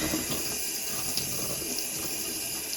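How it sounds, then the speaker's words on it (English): Tap water runs steadily over dyed cotton floss being rinsed in a sink, a continuous close splashing wash with no talk. "let's see how much of the dye actually comes out of the floss when I rinse it"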